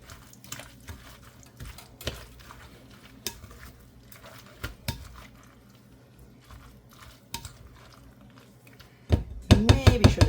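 Sour cream and dill mixed in a bowl for rouladen, with sporadic scraping and tapping of a utensil against the dish at close range, building into a quick burst of louder clinks and stirring at the end.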